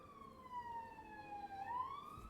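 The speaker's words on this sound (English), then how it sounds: "God, that's a lot of police cars." Several police car sirens pass by, their wailing tones sliding up and down in pitch over a low road rumble, fairly distinct and continuous for a couple of seconds.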